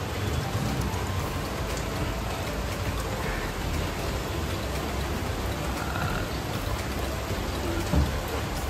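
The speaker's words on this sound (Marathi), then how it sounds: "मस्त जोरदार पाऊस आला आहे," Heavy monsoon rain pours down in a dense, even roar of drops on surfaces, constant and fairly loud throughout without any voices.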